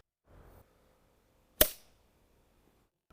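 A squib load fires at a shooting range as a single sharp, loud crack with a brief decaying tail, preceded by a short burst of soft noise and followed by quiet.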